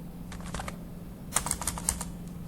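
PHP code is typed on a computer keyboard in short bursts of quick, light key clicks, close and fairly quiet, over a steady low electrical hum.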